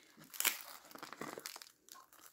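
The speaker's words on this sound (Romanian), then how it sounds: "cel mai bine eu am să-l rup" A freshly baked, still-hot cozonac sweet bread with a generous filling is torn apart by hand, giving a brief soft crinkling, tearing rustle up close.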